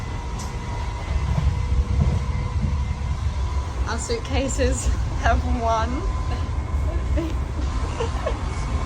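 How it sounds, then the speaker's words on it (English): A passenger train bound for Como, Italy rumbles steadily from inside the carriage, a constant low roll with faint squeaks, while people talk briefly over it. "We're on our second train to Como."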